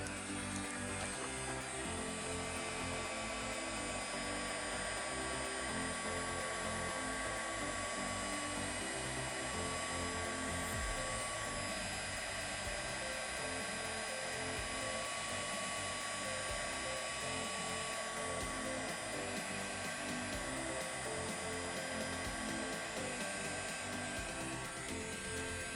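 A heat embossing tool blows hot air continuously, a loud, steady high-pitched whine and rushing air with no pauses throughout.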